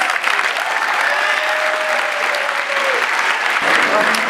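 Applause from an audience at a salon fundraiser for the St. Baldrick's Foundation, a steady dense clapping close by that runs the full few seconds, with faint voices mixed in.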